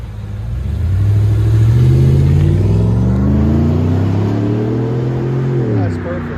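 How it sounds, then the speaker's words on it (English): A GMC Yukon exhaust fitted with a Magnaflow 18-inch body muffler and 4-inch tip revs up, holds a deep, loud, droning pitch, then falls back, heard close and steady throughout. "GMC Yukon Magnaflow 18-inch body, muffler, 4-inch tip."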